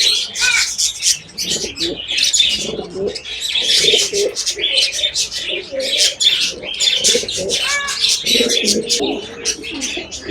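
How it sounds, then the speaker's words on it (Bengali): Pigeons in a loft with young squabs coo and chirp continuously at close range, layered with rustling and occasional wing flaps in a busy, lively chorus. "অনেক সুন্দর কবুতরগুলো।"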